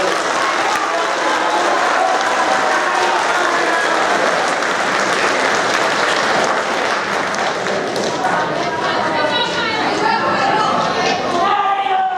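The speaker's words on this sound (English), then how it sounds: "And one more round of applause." Sustained audience applause fills a school awards ceremony for eighth graders, dense steady clapping throughout, with voices and chatter mixed in and the clapping thinning slightly toward the end.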